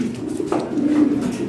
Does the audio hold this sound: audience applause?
no